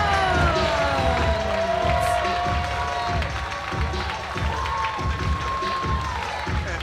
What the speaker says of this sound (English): Look at the arena standing up and applauding Kevin Knight for his actions.